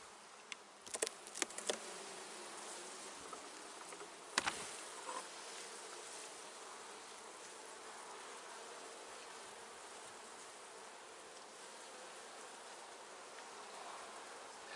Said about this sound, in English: You can see there's a decent number of bees up here